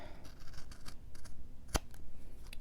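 Scissors snip once through a decorated paper gift tag, a crisp isolated cut over a muffled background of handling rustle.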